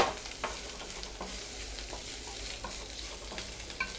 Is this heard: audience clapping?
no